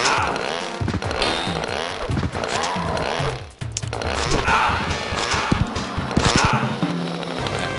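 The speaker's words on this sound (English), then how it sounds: "the roll with Rancid just keeps spamming the chainsaw button" Rancid's chainsaw attack in the arcade fighting game Time Killers gives off repeated buzzing, grinding bursts in a dense mix of game effects and impacts, loud and continuous with only a brief dip midway.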